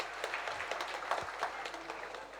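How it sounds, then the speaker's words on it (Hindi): Audience clapping at a spiritual discourse by a Jain acharya, a steady patter of many hands held at an even level for a couple of seconds. "ये हमें समझ में नहीं आए तो ताली बजा रहे"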